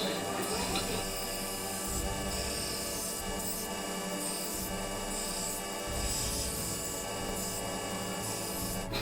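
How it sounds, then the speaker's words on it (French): Steady rasping strokes of hand sanding on a knife handle, continuous and close, while someone talks over the work throughout. "Là, on va le poncer à la main et le lustrer"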